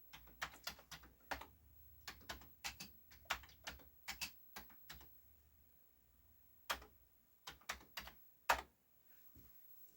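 Commodore 64 keyboard keys typed at the BASIC prompt, quick irregular clacks in bursts with short pauses, close and fairly quiet.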